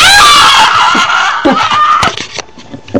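A person gives a loud, high-pitched sustained scream that breaks off, followed by quieter snickering and breathy sounds, close and alone without talk.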